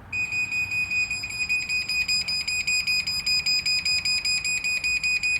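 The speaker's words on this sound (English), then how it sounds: "This is an alert to clear the path of your door." A rapid, steady series of high-pitched electronic beeps from a garage door opener repeats loudly and evenly, an insistent warning to clear the door's path, with a low hum underneath.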